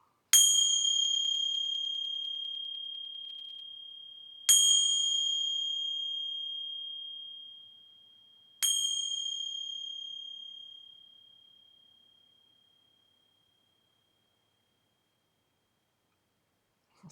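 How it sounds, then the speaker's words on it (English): Three bright, clear bell strikes spaced about four seconds apart, each ringing out a long pure tone that slowly decays before the next, ending in silence. "These bells may be a little loud."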